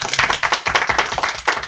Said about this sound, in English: So Alex deserves a round of applause.